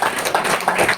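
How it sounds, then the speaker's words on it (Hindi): Audience applause at a spiritual talk: a brief, dense burst of clapping filling the whole second at steady loudness. "इतने ज्ञानियों के लिए तालियां होनी चाहिए"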